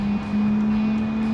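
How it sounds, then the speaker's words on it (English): Car engine held at full throttle in the BeamNG driving game, a steady loud engine drone with a constant pitch, briefly dipping near the start, alone without talk. "More throttle. Wait, and full throttle."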